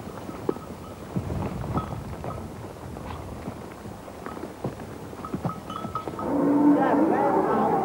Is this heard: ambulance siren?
no